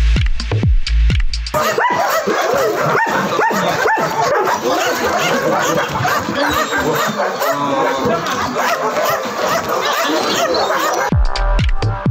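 Several dogs bark, yip and whimper close by in a dense, continuous chorus, with people talking intermittently underneath.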